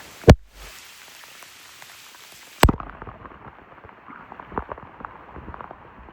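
Rain patters steadily on the surface around a kayak on water in a national forest, a dense crackling hiss broken by a few sharp knocks and thumps.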